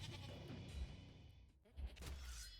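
A goat bleats in the video game Misericorde, a faint, quiet call heard a couple of times against a low rumbling background with no talk.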